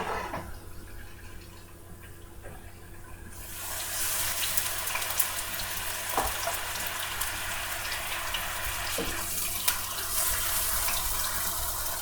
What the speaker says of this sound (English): You hear that sizzling.